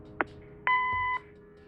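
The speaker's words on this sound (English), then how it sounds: "Leave a message after the beep." An answering machine in the video game Kathy Rain gives a short click and then a single steady electronic beep lasting about half a second, clean and alone.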